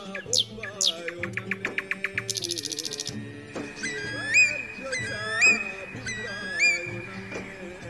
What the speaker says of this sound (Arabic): وأصوات الطيور المغردة